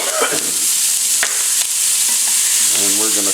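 A large onion sizzles in a hot pan or pot, a steady broadband frying hiss with a few sharp clicks and scrapes, ending with some low tonal rumbling near the close; no talking.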